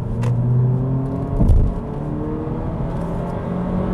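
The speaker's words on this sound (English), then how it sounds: "it's the tires that they put on this car or what, but it's louder than I'd like" Steady, loud road and tire roar from a moving 2022 Honda Civic Sport fills the clip, a low droning rumble with a brief swell partway through and no voices.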